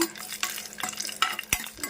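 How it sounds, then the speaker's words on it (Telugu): Dried red chillies frying in hot oil for a mint and coriander chutney, a short bubbling sizzle punctuated by quick crackles and spoon knocks. "ఆయిల్ వేగిపోయిన ఇందులో ఎండుమిర్చి వేస్తున్నానండి"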